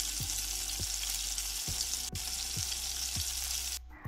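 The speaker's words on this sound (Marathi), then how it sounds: "आपण आता बाकीचेही मोदक तळून घेऊयात" Coconut-jaggery modaks in a flour shell deep-frying in hot oil, a steady broad sizzle with soft periodic knocks of a spoon or ladle, no voices, briefly dipping near the end.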